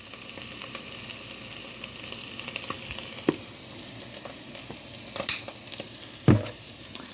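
Food with minced garlic and a little spice frying in a hot pan and being stirred, a steady close sizzle with a few scraping knocks of the utensil against the pan, and no talk.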